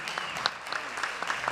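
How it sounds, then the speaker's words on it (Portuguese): A studio audience applauds a guest on a Sunday family programme, brisk steady clapping with some individual claps standing out. "Aplausos"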